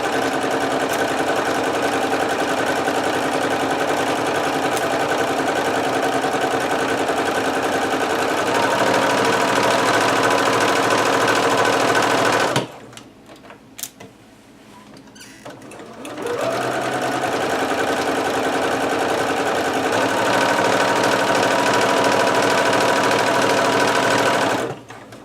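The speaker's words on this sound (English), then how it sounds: "Stitch, back stitch, and finish up the seam." A sewing machine stitches and back-stitches a garment seam, running loud and steady for about twelve seconds, pausing briefly, then whirring on again at full speed.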